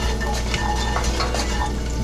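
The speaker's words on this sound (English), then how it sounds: "now we're sizzling" Garlic sizzling in a pan while making homemade pizza, a close steady crackling fry with scattered scraping and stirring clinks over a low hum.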